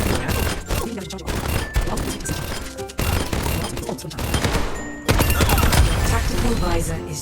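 Gunfire in the video game Overwatch: dense, loud bursts of shots and impacts layered with continuous game effects and music, running without a break.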